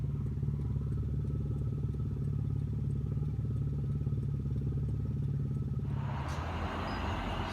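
Motorcycle engines at a car meet rumble in a steady, droning mix with a low, beating idle, and a louder, rougher surge of revving comes in near the end.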